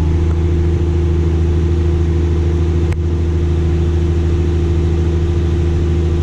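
A tractor engine drives a grain cart unloading into a truck, a loud, steady close drone with a deep, even hum that holds throughout.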